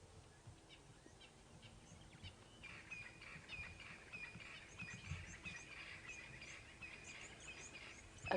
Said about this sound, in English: A murmuration of starlings